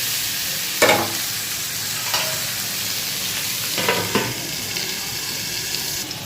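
Potato and eggplant frying in a pan with a steady sizzle, broken by a few scraping stirs of a utensil; close and moderately loud, with no talking.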